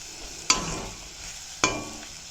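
Bitter gourd fries in oil in a pan for a Tamil-style karamathi stir-fry: a faint, low sizzle is broken by two sharp, close spatula strikes about a second apart.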